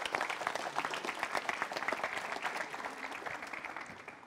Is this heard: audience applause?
yes